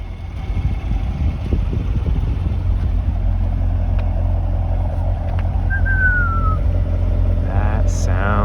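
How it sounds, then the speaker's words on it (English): A black base-model C8 Corvette idles with a deep, steady exhaust rumble heard up close, the loud low drone running throughout while faint background noises come and go. "let's have a listen to the exhaust"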